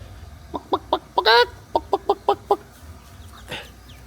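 Chickens in the Philippines cluck nearby in a quick series of short, sharp calls, with one longer squawk in the middle, then a faint rustle.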